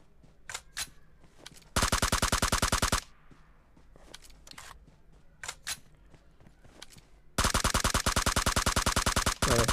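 Two long rapid bursts of M416 automatic rifle fire in PUBG Mobile, sharp and loud, each lasting over a second, separated by quieter single shots and faint game ambience.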